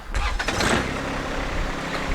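A John Deere 1025R compact tractor fitted with a loader and backhoe starts up in neutral, a brief cranking burst catching into a steady, loud engine idle close by.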